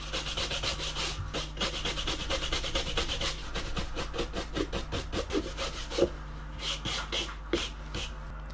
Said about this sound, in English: I'm going to use a nylon brush here.